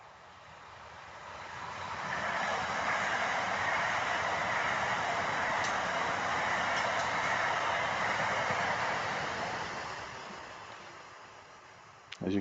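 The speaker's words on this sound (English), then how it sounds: "This is the first train on the download." Train passing on a railway line between Edinburgh and Glasgow: a broad rushing roar that swells from faint to loud, holds steady for several seconds, then fades away with a small knock at the end.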